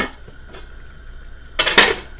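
Quiet kitchen clatter, then a sharp metallic clank as a lid is set onto a pot, ringing briefly.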